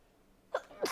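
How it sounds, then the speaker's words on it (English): A single person's sneeze: a short sharp intake burst followed by a louder, explosive sneeze that ends the second, close and alone over a quiet background. "I'm gonna sneeze."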